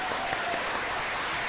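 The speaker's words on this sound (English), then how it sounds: "Round of applause for all of you." Steady, dense applause from a crowd at a canine companions team training graduation, a continuous wash of many hands clapping at an even level throughout the short stretch.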